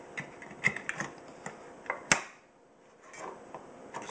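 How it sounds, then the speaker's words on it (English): An Entrek Badger field knife pries at a can lid in a kitchen, producing a run of small metallic ticks and clicks with one sharper snap midway, close and faint. "That should give us access to the lid to pry it open the rest of the way."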